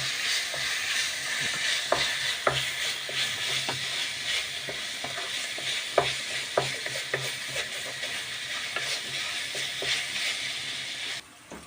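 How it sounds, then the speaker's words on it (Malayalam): Chicken parts frying in a pan, with a continuous sizzle and hiss broken by scattered pops and occasional stirring scrapes, close up and fairly steady throughout. "നന്നായിട്ട് ഫ്രൈ ചെയ്ത് വെക്കാം"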